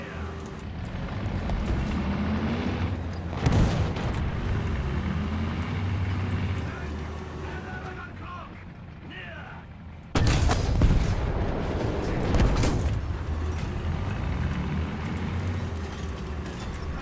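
Tank cannon fire in the War Thunder video game, with a couple of sharp booming shots near 3.5 and 10 seconds over a steady rumble of engine and battle noise, while people talk throughout.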